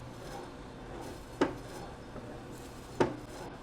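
A knife cuts through sirloin steak on a board, producing two distinct sharp knocks as the blade strikes the surface, with faint slicing scrapes between them in an otherwise quiet setting.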